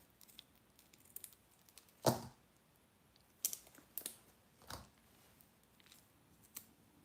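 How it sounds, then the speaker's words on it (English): Tape cut with scissors, a few soft, sparse snips and crisp clicks close by in a quiet room, with one sharper cut standing out. "Then you cut the tape like that."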